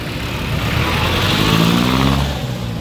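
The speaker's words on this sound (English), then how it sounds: "Look at all this traffic, you know." Busy Manila street traffic with jeepneys, buses and motorcycles, engines rumbling and revving close by in a dense, continuous wash of road noise that swells in the middle, no talk.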